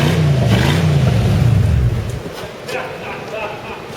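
Ford Crown Victoria engine held on the gas after a rebuild, a loud steady revving drone with a wavering pitch that drops off partway through to a lower, rougher running sound, with outdoor background noise.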